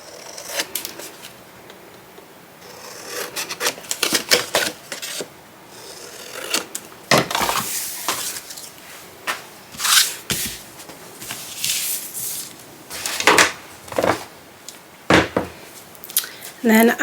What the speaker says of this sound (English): And I'm just going to snip those corners off.